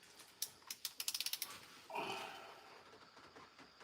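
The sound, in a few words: torque wrench tightening head gasket bolts to 50 foot-pounds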